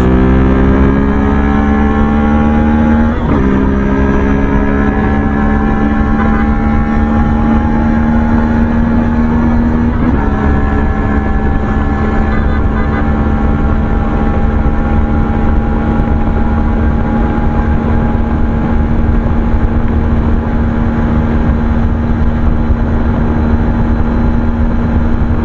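A CFMoto 450MT motorcycle engine pulls hard through the gears in a top speed test, loud and close, its rising whine broken by a couple of brief shift dips before holding a steady high drone with wind roar.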